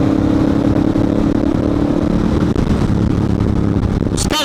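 A Ducati Monster 821 motorcycle engine runs loud and close, its droning note surging and easing as it speeds up and slows down, with no clear talk over it.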